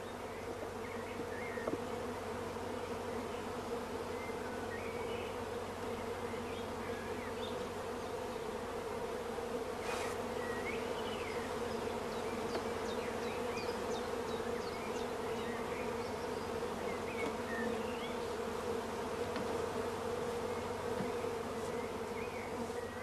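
Honey bees in a swarm box buzz continuously in a dense, steady drone, with a sharp click partway through.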